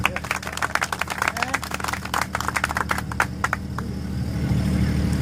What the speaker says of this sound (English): So, have a great applause for your success.